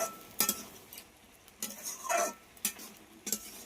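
Ginger paste and turmeric powder stir-fried in a pan for a spinach-stalk dish, with several short bursts of spoon scraping and stirring over a low sizzle, close and fairly quiet, no talking.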